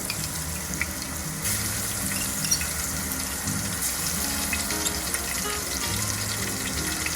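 Garlic and ginger paste hits hot oil already popping with mustard and cumin seeds for a jackfruit sabzi, giving a steady, close, loud sizzle with a watery hiss and no talking.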